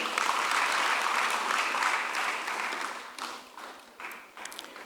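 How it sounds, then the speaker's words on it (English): Sustained applause from an audience at a public lecture at a university of education, a dense wash of clapping that thins and fades toward the end. "Please, let's clap for him."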